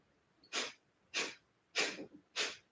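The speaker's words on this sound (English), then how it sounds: "It's going to be out through the nose." Sharp breathy bursts of breath of fire push out through the nose, four evenly spaced exhales up close in a quiet room, each a short sneeze-like puff with near silence between and no speech.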